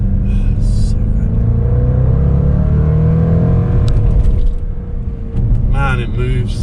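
A 2022 Jaguar F-Pace SVR accelerates on winding roads, its engine note a steady, loud in-cabin rumble that rises and falls with the throttle, while someone talks over it.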